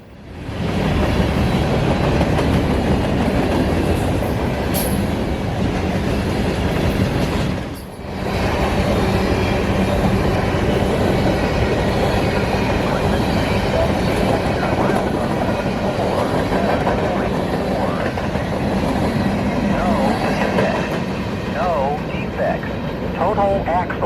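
Manifest freight train M648, running out of Rice Yard in Waycross, Georgia, rolls past on the rails with a loud, close, continuous rumble and clatter of wagons, dipping briefly before the steady roar resumes.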